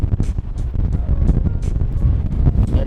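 Outdoor wind buffets a microphone beside a driving-practice area in Egypt, a continuous low rumble with gusty bursts throughout and no one speaking.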